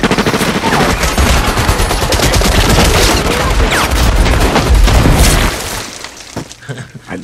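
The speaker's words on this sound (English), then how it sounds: "All the shooting." Rapid gunfire and automatic bursts from film shootout scenes, dense, loud and continuous for several seconds before thinning into scattered single shots near the end.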